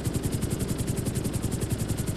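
A helicopter in GTA 5 hovers with a steady, rapid rotor chop pulsing evenly throughout, loud and close with no talk.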